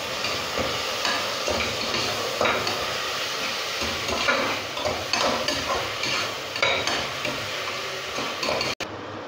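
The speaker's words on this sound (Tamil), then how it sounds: "தக்காளியை போட்டு இப்போது அதை வதக்க போகிறோம் நம்ம." Tomatoes sautéing in a pan for cauliflower biryani, with a steady loud sizzle and repeated scraping and clinking from stirring throughout, ending in a sudden cutoff.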